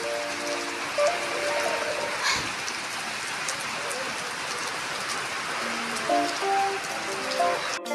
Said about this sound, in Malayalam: നല്ല മഴ പെയ്യാണ്.